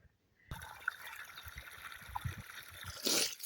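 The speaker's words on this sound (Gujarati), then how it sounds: "હાલો તો આપણે મોટું કેન ભરાઈ ગયું" Water runs from a hose into a large can, a soft trickle and gurgle with a brighter splashing surge near the end, faint and close.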